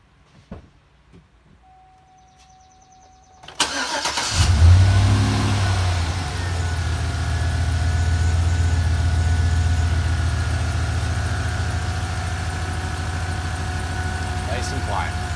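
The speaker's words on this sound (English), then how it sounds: "So I'm going to go ahead and put it back on the truck, start it up, and we'll see if the noise is gone" A 2007–2013 Chevrolet Silverado 1500 truck's 5.3L engine cranks briefly and catches, then settles into a steady, loud close-up idle with a low rumble after a quiet start, following a fresh tensioner pulley replacement.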